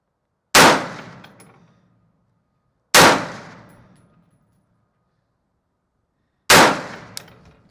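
Three loud, sharp gunshots from a Daniel Defense M4A1 rifle fired at a target, spaced a few seconds apart, each ringing out and decaying in open air.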